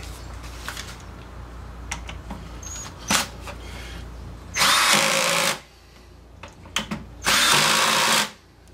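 A power drill drives screws into a wooden DVD cabinet in two loud whirring bursts of about a second each, separated by quieter handling clicks and taps of the workpiece.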